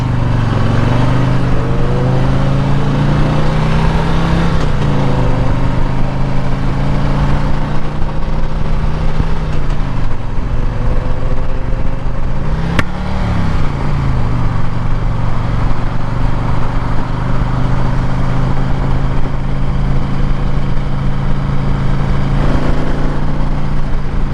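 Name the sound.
Harley-Davidson Screamin Eagle Electra Glide engine running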